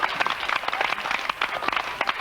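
A studio audience bursts into applause for a magic trick, a dense run of clapping that carries steadily from start to finish without a break.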